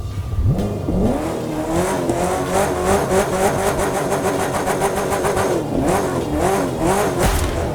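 A Ford GT sports car races in The Crew 2 on a drive from St. Louis to Dallas. Its engine roars loud and steady, revving up and dropping back through repeated gear shifts, with no talking.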